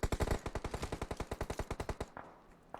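Rapid automatic gunfire in a PUBG Mobile scrim match, a fast loud burst of about twenty evenly spaced shots lasting two seconds, then breaking off into fainter rumbling game ambience.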